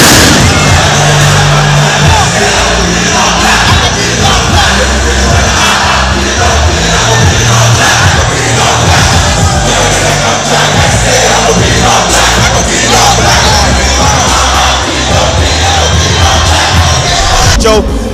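A packed concert crowd at a hip-hop show in Accra cheers and shouts without a break, a loud, dense roar with whoops and calls layered over booming music.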